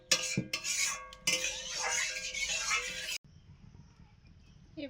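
A pot of shrimp and eggplant curry is lifted off a stove, with metal pot and utensil clatter and scraping for about three seconds before an abrupt cut to quiet kitchen background.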